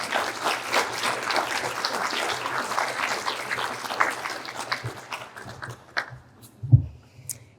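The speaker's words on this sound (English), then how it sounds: "join me in one more round of applause for all of our award winners this evening" Applause for award winners at an outstanding alumni awards ceremony, a dense round of clapping from a crowd that carries for several seconds and then thins into scattered claps, ending with a few isolated knocks.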